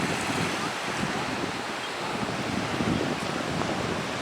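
Ocean surf washing against the rocky coast near Glass Beach in Mendocino, a steady broadband roar of breaking waves mixed with gusting wind buffeting the microphone, continuous and fairly loud, with no voices.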